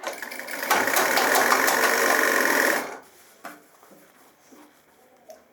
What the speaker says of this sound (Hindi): अब मैं थोड़ी सी और यहाँ तक सिलाई लगा के बताता हूँ।